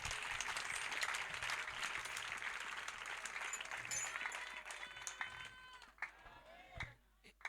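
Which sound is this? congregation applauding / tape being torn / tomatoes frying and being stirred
congregation applauding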